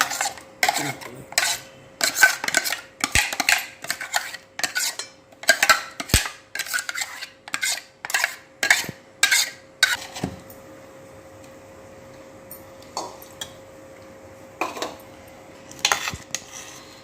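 A metal spoon scraping and clinking against a steel vessel while bottle gourd chutney is transferred, in repeated rhythmic taps for about ten seconds, then a few sparser scrapes near the end.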